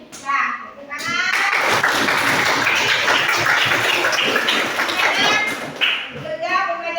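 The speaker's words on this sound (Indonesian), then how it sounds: "Nah, tepuk tangan." A class of children claps hands together for about five seconds in loud, dense, sustained applause, with voices speaking briefly before and after.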